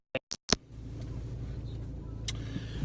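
A car interior while driving to work in the morning: three sharp clicks at the start, then a steady, low engine hum and road rumble that continues to the end, with no talking.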